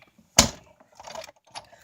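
A brief mechanical crunch and clatter close by as a Big Kick die-cutting machine cuts cardstock, followed by softer rattling and shuffling handling noises.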